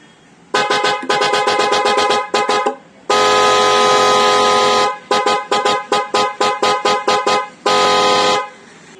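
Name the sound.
car horn of the kind fitted in Skoda cars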